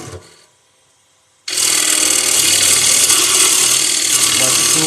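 A cutting tool rides the bevel into spinning wood, a steady loud broadband shearing hiss that starts abruptly after a brief quiet pause and continues unbroken to the end.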